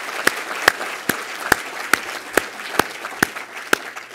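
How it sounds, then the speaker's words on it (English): A crowd at a corporate fireside chat claps in a steady, evenly spaced rhythm, with loud sharp claps landing about every half second over a soft bed of broader applause. "I appreciate the round of applause, but really the round of applause."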